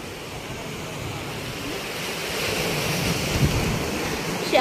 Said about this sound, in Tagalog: Laki ng alon, no?